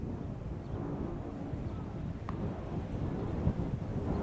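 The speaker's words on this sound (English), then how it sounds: "That's how windy it is." Strong wind buffeting a microphone at a high school baseball field, a loud continuous low rumble with gusty swells and no clear talk.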